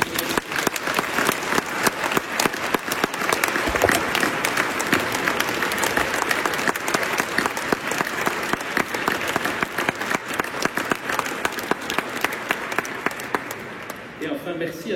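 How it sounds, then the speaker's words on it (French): Warm, sustained applause from a church congregation at a solemn mass, dense clapping running steadily for the full span and thinning slightly near the end. "je vous invite à l'applaudir chaleureusement"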